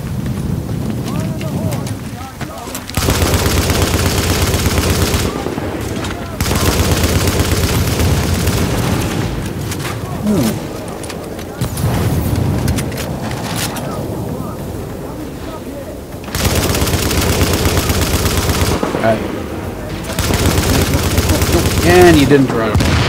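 Light machine gun fire in the video game The Division, sustained rattling bursts that start and stop repeatedly, loud and close, with several players talking over and between the volleys.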